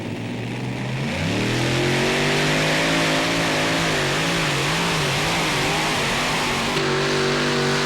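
A modified pulling tractor from Golden Gate, Illinois, roars down a clay track on 30.5 tires. Its engine revs up sharply after the first second and then holds a loud, close, harmonic-rich drone that wavers as the load shifts, with no talk over it.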